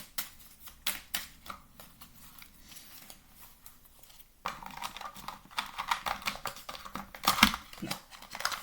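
Tarot cards being drawn from a deck, heard as soft, close shuffling, sliding and tapping of cards that grows a little busier halfway through, with faint handling noise throughout.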